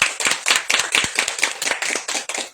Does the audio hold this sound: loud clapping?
yes